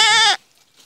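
A newborn lamb from a dairy ewe's triplet birth gives a single loud, close, tonal bleat of about a third of a second, followed by near silence.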